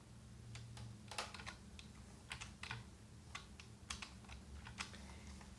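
Soft keystrokes on a computer keyboard come in short irregular bursts over a low steady hum, quiet and close.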